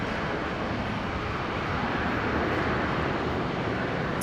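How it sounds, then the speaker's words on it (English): A Qantas airliner, flight 619 bound for Melbourne, departs Brisbane International Airport with a steady broadband jet roar that holds loud and even throughout, with no voices. "Qantas 619 heading down to Melbourne."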